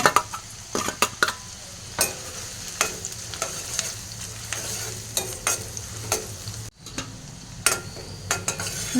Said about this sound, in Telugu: ఆనియన్ అయితే ఇంకా కొద్దిగా ఫ్రై అయితే సరిపోతుంది ఫ్రెండ్స్